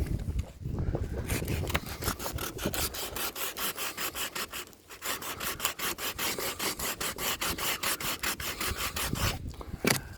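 Wood on a boat under construction is rubbed down by hand, a rapid rhythmic scraping of strokes continuing close and steady for several seconds with one brief pause midway.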